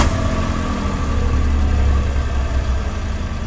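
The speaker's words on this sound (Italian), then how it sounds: "Avviamo quindi il motore." A car engine runs during a battery cranking test, giving a loud, steady mechanical drone that holds evenly throughout with no voices over it.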